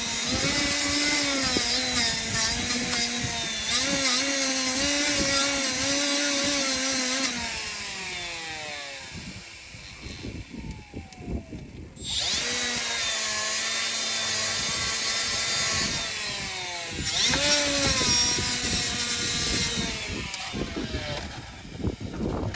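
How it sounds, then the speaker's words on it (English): A wire wheel buffs paint off the ends of front brake pads for a 2007 Honda CR-V, a harsh, loud grinding whir with pitch that sags under load, pausing briefly around the middle before spinning back up for two more bursts. "I think I'm going to wire wheel a little bit of the paint off here just to ensure that it doesn't seize up in there"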